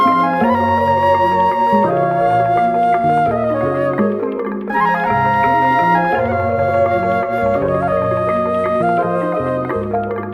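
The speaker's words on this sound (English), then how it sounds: "the original Q-beat sample sounds like this" The original Q-beat sample later used for a remake, a loud, dense melodic loop of sustained layered tones that shift through changing chords and repeat partway through, with no voices.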